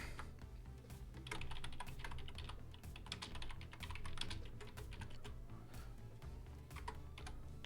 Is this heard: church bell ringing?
no